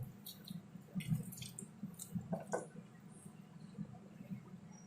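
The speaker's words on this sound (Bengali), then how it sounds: "হাত দিয়ে ম্যাশ করে নেব কাঁঠালটাকে" Jackfruit mashed by hand for fritters, faint soft squelching and sticky squishes in an irregular rhythm, close up and quiet.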